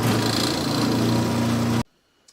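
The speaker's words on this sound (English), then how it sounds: "So I'm going to start drilling the holes for this" A power drill with a Forstner bit bores holes in wood for a fishing rod storage rack, giving a loud, steady motor drone that cuts off abruptly into near silence.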